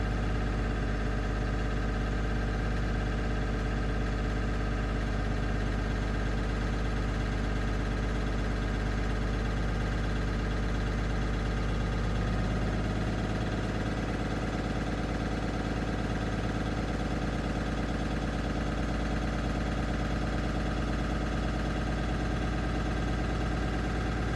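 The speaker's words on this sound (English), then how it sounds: "So now I'm going to high idle again to take it up to the cutout at 120, 125." Engine of a 2018 Thomas C2 school bus held at high idle during an air brake test, a loud steady drone with a slight shift in tone partway through, close and continuous with no voices.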